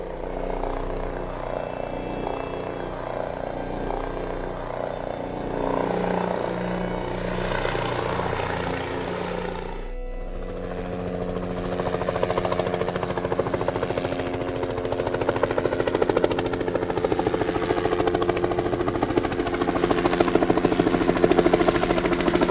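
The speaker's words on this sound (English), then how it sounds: "I'm gonna go back and call in the helicopter" A helicopter's rotor in Zoo Tycoon 2 chops steadily throughout, a continuous engine drone that briefly dips mid-way and then grows louder and fuller, as if drawing closer.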